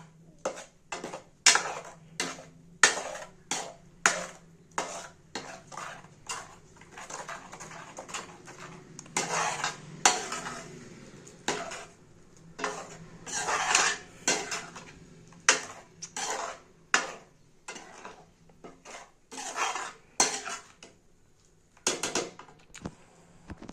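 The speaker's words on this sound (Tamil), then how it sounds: "இதை நல்லா பரட்டி விட்டுறணும்" A spoon scrapes and clinks against a metal pan in a steady, uneven rhythm of short strokes while stirring Madurai-style tomato thokku, close up, with no talking.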